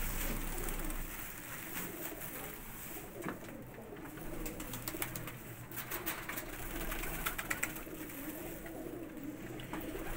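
Pigeons kept by a pigeon keeper coo softly in winter, rising and falling faintly through steady background noise with no voices.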